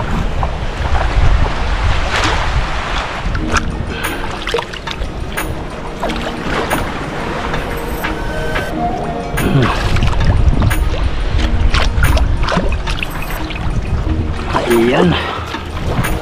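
Sea waves wash against a shore where a boat sits, with a constant roar of surf and wind buffeting the microphone, while people talk loudly over the water noise.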